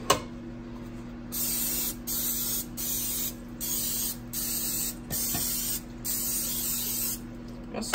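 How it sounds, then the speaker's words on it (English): Repeated short bursts of aerosol cooking spray hiss in a steady rhythm, about eight sprays with brief pauses between them, close by over a faint background hum. "I'm going to spray these."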